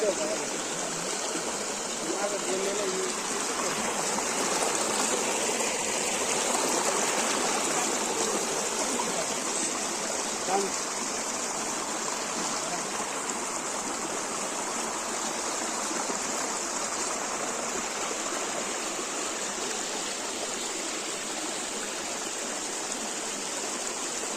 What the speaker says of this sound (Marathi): धबधबा इकडे.